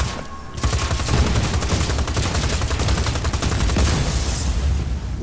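Rapid sustained gunfire from the video game Just Cause 4 rattles continuously and loudly after a brief quiet start, dense bursts of shots with no pauses.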